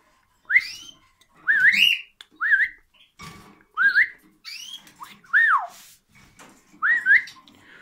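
Repeated bright rising-and-falling whistles trade back and forth, a male cockatiel and a person whistling in short phrases with brief pauses between.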